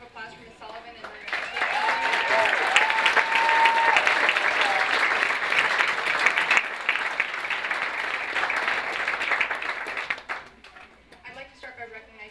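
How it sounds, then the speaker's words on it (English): Warm, sustained applause from the audience at a naturalization ceremony at Bandelier National Monument, honouring Ms. Sullivan; dense steady clapping rises quickly, holds for about eight seconds and then drops away as a voice resumes speaking. "round of applause for Ms. Sullivan"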